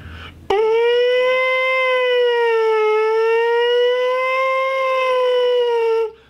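A steady, wavering siren-like tone played on a trombone mouthpiece imitating a British siren, loud and sustained for about six seconds, rising slightly and falling as a lip slur.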